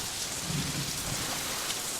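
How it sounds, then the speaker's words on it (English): Steady, dense rain falls at night outside a flood-threatened factory, a close, continuous hiss of drops drumming on surfaces with no pauses and no voices. "It's just the rain."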